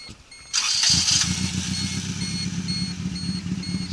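A Toyota Corolla engine cranks and catches, settling into a steady, loud idle close by with a rough, pulsing rhythm and some clatter.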